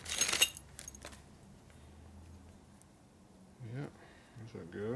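Loose nuts and transmission keys from a 1942 Harley-Davidson 45ci WLA flathead jingle sharply in a brief metallic burst, then someone talks quietly nearby.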